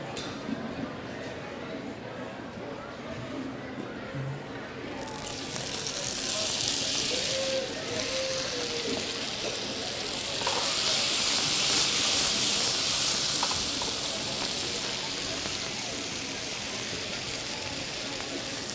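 Potato gnocchi fry in oil in a pan with a steady hiss and sizzle that swells louder midway as more oil goes in, while a person talks over the frying.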